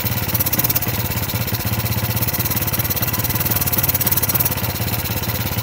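A Suzuki Smash motorcycle that had sat dead for a long time, now refuelled, runs at a steady idle. The close, even engine putter pulses rhythmically throughout with no voices.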